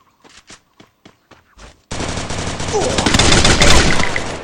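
A few soft taps and clicks, then a sudden burst of rapid, loud gunfire that keeps rattling and building to the end, like a game's shooting.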